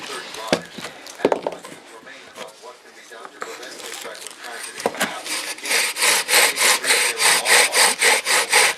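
A knife carves the end of a wooden fire bow spindle to a point. Scattered scrapes under speech give way to a fast, regular run of rasping strokes that is close and loud.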